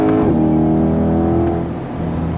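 A C8 Corvette Stingray 70th Anniversary Edition with a GM Performance exhaust drones with a steady, loud engine note that dips slightly in pitch partway through, with no voices.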